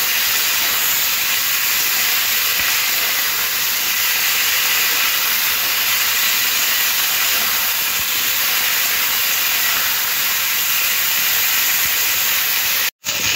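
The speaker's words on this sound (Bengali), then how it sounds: "আলু আর ফুলকপিটা তেলের মধ্যে দিয়ে খুব ভালো করে ভাজা ভাজা করে নেব" Potato and cauliflower pieces fry in hot oil with a loud, dense, unbroken hiss that holds steady throughout, cutting out briefly just before the end.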